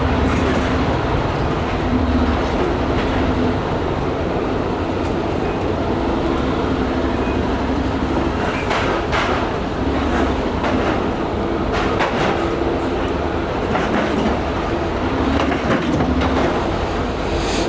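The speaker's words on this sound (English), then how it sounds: "Man, these trains are getting so old now." A Eurotunnel train rumbles along steadily and loudly, with rhythmic clattering of wheels on the track and occasional rattles, no voices.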